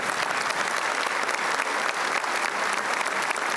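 Sustained applause from a packed hall audience at the Mostar premiere of the Livno-made TV series Balkanika, dense steady clapping at even loudness throughout with no voices standing out.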